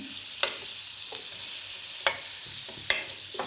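Butter sizzles on a hot tawa griddle over a gas flame, a steady bright frying hiss with a few sharp crackles and spatters. No talk.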